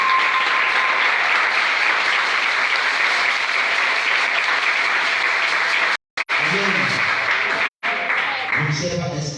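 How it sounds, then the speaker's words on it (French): A church congregation applauds for Jesus in loud, steady, sustained clapping that fills the space, breaking off briefly twice before a voice begins to speak. "C'est comme ça que vous applaudissez pour Jésus."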